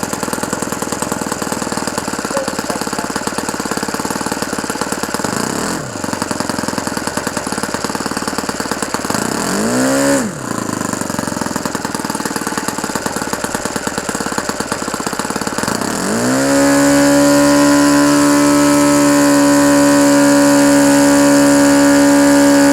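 An OS FS-120 Surpass four-stroke model aircraft engine with a 15x8 propeller runs steadily and loudly at a high idle, rising through a few short throttle blips before settling into a sustained, even drone.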